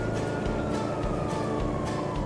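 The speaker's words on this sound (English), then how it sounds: "He's not listening to my siren, so I think he's drunk." A police car siren wails steadily and loudly in the GTA V video game during a DUI checkpoint pursuit, with a continuous engine rumble underneath and no talking.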